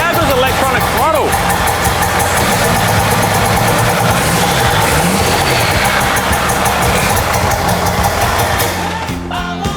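A Cummins 6BT diesel running just after a cold start, a loud, steady clattering idle with knocking vibration that holds throughout before tapering off at the very end.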